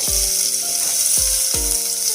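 Sliced onions going into hot oil in a pan for a cherupayar curry, a continuous close hiss and sizzle with a few soft stirring knocks against the pan.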